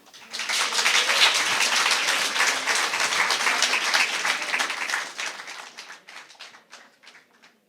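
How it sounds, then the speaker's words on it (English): Audience at a speaking competition applauding a contestant, a loud burst of many hands that swells quickly, holds, then thins into scattered individual claps and fades out. "Another round of applause."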